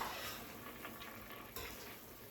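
A pot of sauce on the stove bubbles at a gentle boil, a faint steady simmer with soft popping close by and no voices.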